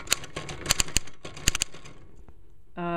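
A Royal manual typewriter being typed on, with sharp metallic key strikes in quick irregular bursts, close and crisp, then a pause and a bell-like ring near the end.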